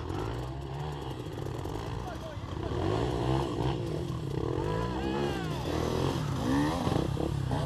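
Honda CRF 230 dirt bike climbing a trail, its engine revving and straining steadily throughout, with excited shouting voices over it.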